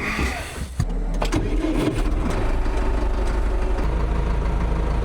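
A tractor engine idles steadily on an off-grid cabin site clearing trees, a continuous low rumble close by after a brief clatter at the start, with no talking.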